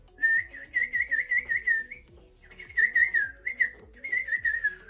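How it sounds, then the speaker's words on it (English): A person whistles a lively melodic tune in three phrases, clear and close, with short pauses between, over faint low background noise and no talk. "Can you whistle? Yes,"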